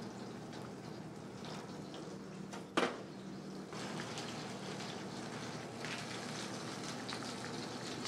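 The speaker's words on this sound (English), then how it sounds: "the red snapper skin side down to start off with. Just need to sear the skin off." A red snapper fillet sears skin side down in a hot pan with a steady, fairly faint hiss and crackle, like light rain, broken by one brief knock.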